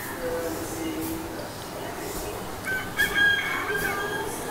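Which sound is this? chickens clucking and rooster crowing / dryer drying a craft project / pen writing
chickens clucking and rooster crowing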